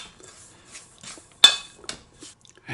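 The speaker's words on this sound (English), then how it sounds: "first I'm going to put my dry ingredients in. And I'm going to mix them pretty good" Dry ingredients for hoe cakes stirred in a bowl, giving a few scattered scrapes and clinks of a utensil against the dish, with one sharper knock midway; quiet and close, no talking.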